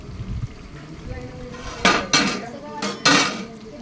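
Metal cooking pot and lid clatter in a home kitchen where spicy chicken is being made, with four sharp clanks in two quick pairs standing out above a low background murmur of voices.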